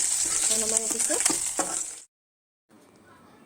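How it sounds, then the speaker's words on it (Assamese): Fish sizzling and frying hard in hot oil over a high flame, a loud, dense crackle for about two seconds that cuts off abruptly, then a fainter hiss. "মাছটো আমাৰ অলমষ্ট এতিয়া ফ্ৰাই হৈ গৈছে"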